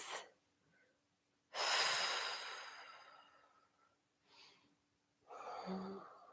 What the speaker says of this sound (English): So remembering your Ujjayi breath, keeping you lengthening and softening.